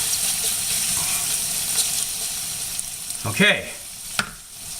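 Candy onions frying in oil in a pan give a steady close sizzle throughout, with a stirring scrape near the end and a brief spoken word over it.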